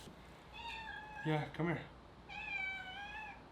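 A pet cat meows twice, drawn-out and tonal, close by and moderately loud, with a person's short spoken words between the two calls.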